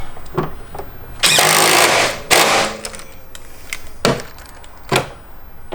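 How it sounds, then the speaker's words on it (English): A power tool fastens parts during an Eisenmann Race exhaust install on a BMW E9X M3, with two loud sustained bursts early on and a few short sharp clicks and knocks later. "Tim screwing those things back in."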